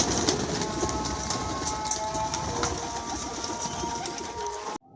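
Pigeons coo at a farmhouse in Rahim Yar Khan, soft repeated calls heard against a steady rumbling background noise that ends abruptly.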